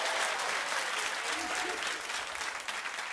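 A studio audience at a television talk show claps in a sustained burst of applause that fades slightly toward the end.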